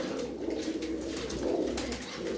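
Pigeons kept by a fancier in a loft coo in low, overlapping, throaty rolls at close range, several birds at once with no talk over them.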